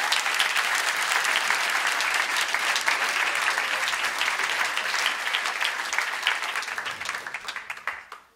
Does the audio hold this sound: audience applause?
yes